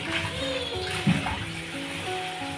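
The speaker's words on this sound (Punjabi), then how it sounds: "ਇਸ ਤਰ੍ਹਾਂ ਤੁਸੀਂ ਧੋਣਾ ਇਹਨੂੰ" Tinda (apple gourd) being washed in water, a steady close splashing and sloshing with a brief louder splash midway; no voices over it.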